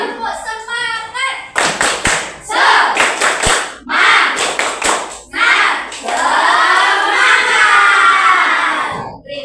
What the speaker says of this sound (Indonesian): mari kita lakukan tepuk semangat.